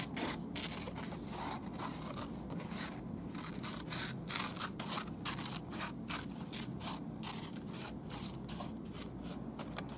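Scissors snipping around a paper circle for a kids' ladybug craft, a continuous run of close, crisp cutting clicks and paper rustle with no talk.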